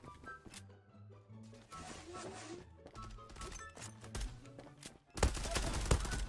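Sharp gunshots from a Zula match, a Kar98 and Glock 18 among the weapons, crack out intermittently over game music and sounds, then a loud dense burst of fire near the end.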